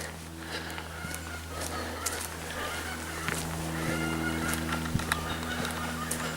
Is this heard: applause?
no